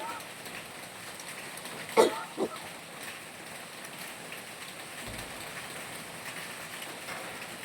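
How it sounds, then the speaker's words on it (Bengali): Light rain falls steadily in a soft, faint patter, with a couple of brief sharp knocks early on standing out above the even hiss of drops. "বৃষ্টির আওয়াজ পাচ্ছেন, বৃষ্টি পড়ছে টুক টুক টুক টুক করে"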